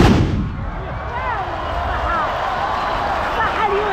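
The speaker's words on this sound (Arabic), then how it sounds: "اول طلقة مجموعة" A volley of gunpowder muskets fired together by horsemen at a Moroccan tbourida festival opens with one loud, sharp blast. Crowd noise and ululating voices follow and carry on behind it.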